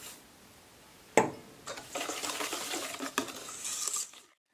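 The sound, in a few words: mixing cake batter with grated coconut in a bowl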